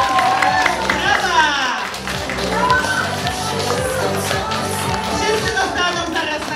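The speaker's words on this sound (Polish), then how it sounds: "Brawa!" Clapping and cheering from a group of children and adults at a school Boys' Day celebration honouring award winners, steady and lively with voices mixed in throughout.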